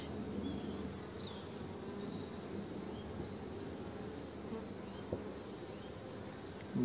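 A dense, steady buzzing hum of many honey bees in a hive fills the space continuously, close and even, with no talking.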